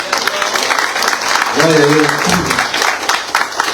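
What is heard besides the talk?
congregation clapping in church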